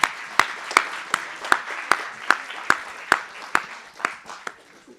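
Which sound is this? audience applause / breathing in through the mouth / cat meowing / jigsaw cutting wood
audience applause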